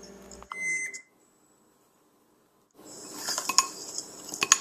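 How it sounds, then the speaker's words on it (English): A microwave oven is set for a pancake, with a short high beep near the start, a pause of near silence, then a cluster of bright clinks and tones from the keypad and plate. "Set the microwave for 3 minutes."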